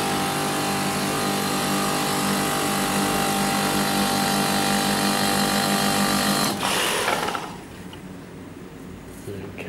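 Refrigeration system pumping down after its valve coil is refitted, a loud steady mechanical whine and hum that drops off abruptly near the end, leaving a faint low rumble.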